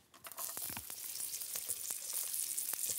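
Green vegetables sizzle and crackle as they fry in a pan for Chinese-style chow mein, a steady close hiss broken by sharp pops and scraping stirs, with no talking.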